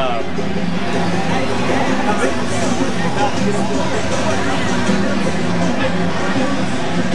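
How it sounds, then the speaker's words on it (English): A large student tailgating crowd before a college football game in Baton Rouge fills the air with dense, steady chatter and babble, many voices overlapping at once with faint traffic rumble underneath. "tailgating as far as the eye can see"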